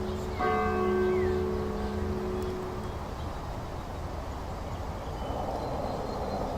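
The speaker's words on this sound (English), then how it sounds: "Local church rang a new bell." A church bell tolls once near the start, its ringing partials fading over a few seconds into steady, noisy background ambience.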